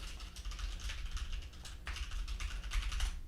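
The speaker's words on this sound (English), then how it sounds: "So I'm going to go ahead and type this into the search query." A search query is tapped out on a computer keyboard, with quick irregular clicks coming in close bursts and a short pause midway, quiet and free of speech.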